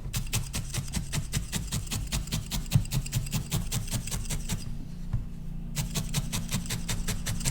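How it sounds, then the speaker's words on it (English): Needles repeatedly jab into wool on a needle-felted fox in a fast, even rhythm of close, crisp pokes that pause briefly before resuming. "I'm just going to felt it down with my needles"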